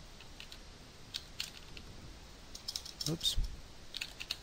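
Someone types on a computer keyboard with quiet, scattered key clicks that come in a short burst, and a voice briefly speaks over them.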